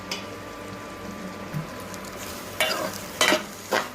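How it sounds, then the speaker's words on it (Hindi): Onions frying over a medium flame for restaurant-style matar paneer give a steady low sizzle, while a spoon scrapes and stirs in several louder bursts toward the end. No one speaks. "अब इसमें हम प्याज ऐड करेंगे और प्याज को हम 3 से 4 मिनट तक मीडियम फ्लेम पे पका लेंगे।"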